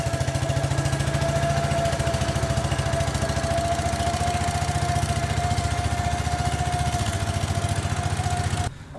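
An old tractor engine, recently revived after years of sitting, runs with a steady rapid chugging putter close by, holding a throttled pace with a faint whine above it, then cuts off abruptly near the end.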